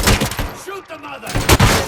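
Loud, close gunshots and heavy impacts from a RoboCop: Rogue City shootout crash through the scene, with a short lull between blasts and a voice speaking in the middle.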